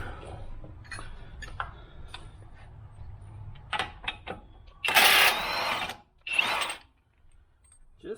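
Ratchet wrench working a 32 mm CV axle nut on a Jeep Patriot, a series of sharp metallic clicks and clanks at uneven intervals, followed by two louder bursts of rattling.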